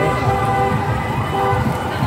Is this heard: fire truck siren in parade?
yes